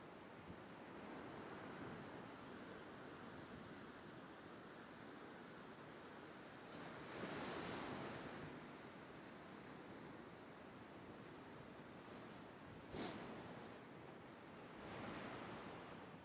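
Ocean waves rolling in, a continuous broad wash of surf with a few louder swells breaking at intervals, heard alone and fairly soft with some wind.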